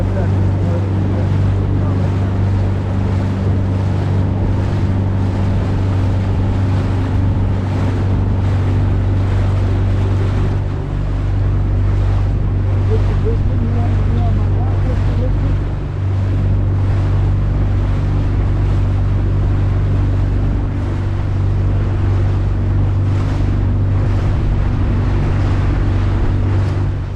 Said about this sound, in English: We're now in a little northerly wind.